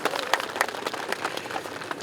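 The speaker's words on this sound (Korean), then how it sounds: "함께해 주신 우리 김명환 상임고문님께 다시 한번 큰 박수 부탁드리겠습니다" Scattered crowd applause at an outdoor statue unveiling ceremony for President Park Chung-hee, moderately faint, with some sharper individual claps standing out in an uneven patter.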